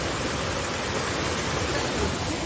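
Water flows steadily on a Goa trip, with a dense, even rushing wash that fills the short moment close to the microphone and carries no voices.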